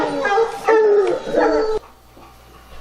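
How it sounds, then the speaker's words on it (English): Bear-hunting jump dogs, just released onto a bait site in Wisconsin, bay and howl loudly together in a burst of overlapping yelps that ends abruptly, leaving quiet outdoor background. "So what just happened is, I believe they're called the jump dogs."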